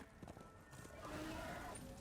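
A horse in the video game Darksiders II clip-clops along and gives a faint whinny, with soft game sounds around it.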